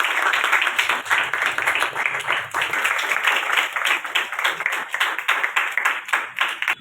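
Seated audience at a Hindi poetry book launch ceremony claps for a book release, a brisk, fairly close spatter of individual hand claps that stays steady throughout, then thins toward the end.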